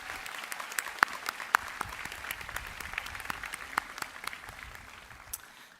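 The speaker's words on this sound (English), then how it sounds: "students, please applaud your family, loved ones, and friends to show them your appreciation" Graduates at a 2022 commencement ceremony applaud their families, a steady spread of clapping from a large crowd in a hall, with a few sharp individual claps standing out as it gradually thins toward the end.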